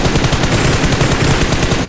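Sustained automatic gunfire in the mobile shooter BGMI, a loud continuous rapid burst of shots that stops abruptly at the end.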